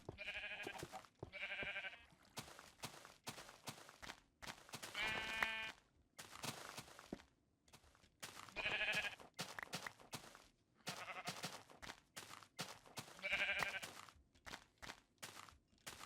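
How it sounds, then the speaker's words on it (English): Repeated sheep bleats from Minecraft, several distinct calls spaced through the stretch, each clear and moderately loud over a low game background. "So many sheep. Can't stop the sheep."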